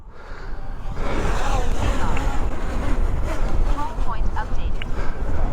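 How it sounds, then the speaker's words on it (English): Strong wind buffets the microphone in a steady, roaring rush that hardly lets up. "It is windy up here"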